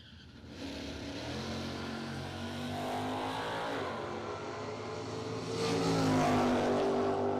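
Box door drag racing cars running side by side down the lanes of a drag strip, a sustained loud engine roar that swells and climbs in pitch as they accelerate, heard at a distance without speech.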